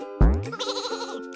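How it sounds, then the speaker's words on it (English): A single sheep lets out one loud, close, wavering bleat that lasts about a second, with nothing else around it. "and these adorable sheep."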